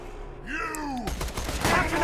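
Shotgun blasts in the video game Borderlands 2, several loud bursts of gunfire over game sounds and a low voice.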